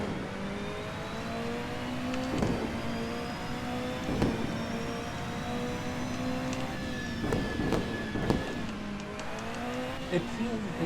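Racing video game car engine, a new all-wheel-drive car, running steadily with a low hum and shifting revs, punctuated by sharp transient bursts, while a voice talks over it throughout.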